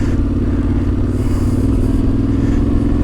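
An off-road motorcycle is ridden slowly and cautiously along an unfamiliar trail, its engine a close, steady low drone with faint clatter and no talk.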